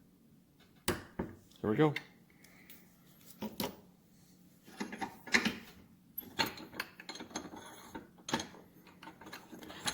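An inch-pound torque wrench tightens a nut on a Harley-Davidson big twin 4-speed transmission, giving scattered close ratcheting clicks and metallic handling knocks, with brief talk mixed in.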